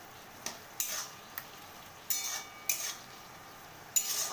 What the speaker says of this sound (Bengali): আমি এখানে চিনি অ্যাড করে দিলাম। আবারও খুব ভালো করে নাড়াচাড়া করে নেব।